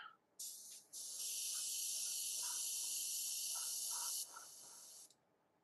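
Spray paint hisses steadily onto base parts for a second coat, a loud continuous burst lasting several seconds after a short opening puff, with faint clicks underneath and no talking.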